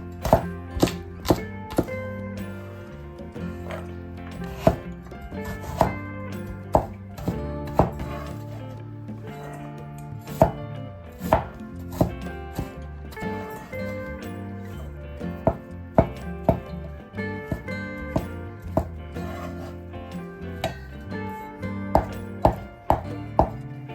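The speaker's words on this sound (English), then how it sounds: "Dicing vegetables." A knife dices vegetables for a stir-fried green noodle dish, knocking on a cutting board in steady, rapid, close chops with sharp thuds recurring throughout, without speech.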